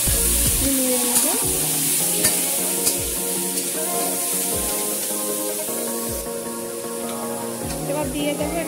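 Bengali-style starfruit chutney frying in a pan with a little salt, a loud continuous sizzle close by, broken by repeated scraping and clinking as it is stirred.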